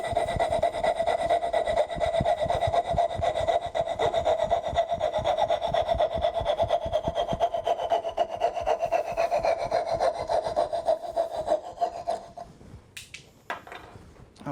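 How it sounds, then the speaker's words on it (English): A fret saw cuts wood for a box joint, steady rapid rasping strokes close and loud for about twelve seconds before slowing and stopping with a few clattering knocks. "Now a fret saw is not as accurate as a dovetail saw, so I am cutting 1mm away from the line"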